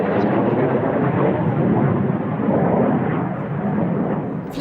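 A Saab AJ-37 Viggen military jet, flown on the civil register by the Swedish Air Force Historic Flight, roars at an air show with a loud, steady, broadband engine rumble that holds throughout without pause.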